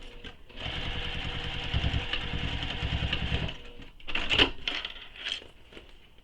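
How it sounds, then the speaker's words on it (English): A sewing machine runs steadily for about three and a half seconds, stitching a crossbody bag pocket closed at the bottom, followed by a few short bursts of handling and rustle. "So stitch this pocket closed at the bottom."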